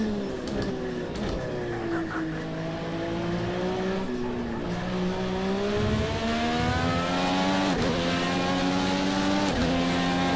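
A race car engine drones steadily through a lap in Project Cars 2, its pitch rising and falling through gear shifts, with occasional tire noise, loud and continuous with no talking.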